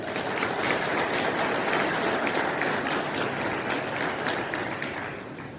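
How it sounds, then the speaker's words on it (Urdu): A crowd claps steadily and densely for several seconds, a full, even wash of applause that eases off slightly at the end. "تو ان کے لیے بھرپور تالیاں"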